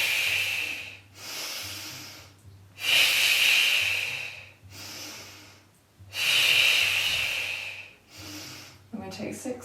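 Slow, deep breathing during gentle hip strengthening and mobility exercise, with long hissing inhales and exhales repeating in a steady rhythm close to the microphone under faint talk.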